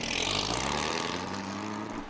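A Ford GT40 racer's 427 V8 runs hard at high revs around the Watkins Glen track, a loud, sustained, dense engine roar with a steady tone that eases slightly toward the end.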